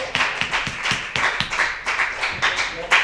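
Comedy club audience claps and applauds at close range, a dense patter of individual hand claps with a few sharp distinct slaps, loud and steady for a few seconds.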